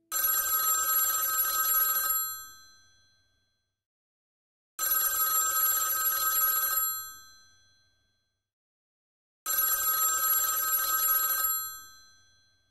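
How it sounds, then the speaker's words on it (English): A telephone bell rings in three separate bursts of about two seconds each, evenly spaced with silent gaps between them, bright and clear with no one talking. "It's an amazing story, and it all started with a phone call."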